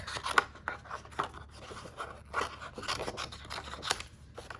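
A vellum card being trimmed for handmade card making, with a series of crisp close cutting snips and light paper scraping at an uneven pace.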